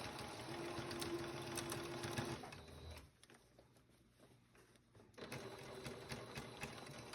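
Sewing machine stitching a scant seam on a Cabbage Patch Kids doll garment, a steady close mechanical whir that pauses briefly mid-clip before resuming.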